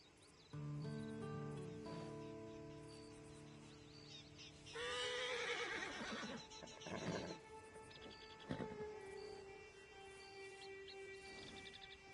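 A horse in the video game Red Dead Redemption 2 Online gives a loud, drawn-out neigh, followed by snorting and a second whinny, with music playing softly underneath.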